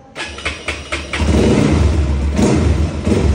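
A motorbike with recent mechanical problems starts close by, with a few quick cranking pulses before the engine catches and settles into a loud, steady idle.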